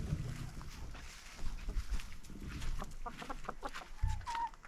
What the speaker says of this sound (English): That's our chickens.